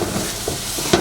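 Onions sautéing in a pan with garam masala, curry powder and turmeric, a brief close hiss of frying with a couple of faint stirring clicks.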